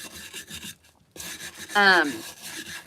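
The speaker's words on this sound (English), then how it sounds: "I'm going to take a wire brush, especially on these edges" A wire brush scrubs chipped paint off the edges of a wooden riser, a dry rasping scrape that stops briefly, then resumes in close, steady strokes.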